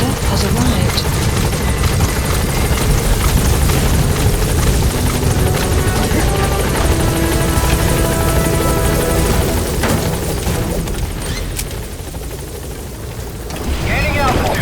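Support helicopter arriving at a landing zone in Metal Gear Solid V: The Phantom Pain, a loud, close, continuous rotor roar with wind rush that eases slightly near the end, with radio voices speaking over it.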